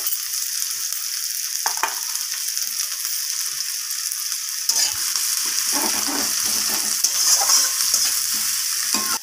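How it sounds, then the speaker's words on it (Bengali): Chopped onions frying in hot oil until lightly browned, giving a steady close sizzle and crackle with occasional stirring scrapes, growing denser and louder in the second half. "তো পেঁয়াজগুলো দেওয়ার পর আমি হালকা বাদামি রং করে পেঁয়াজগুলোকে একটু ভাজা করে নেব।"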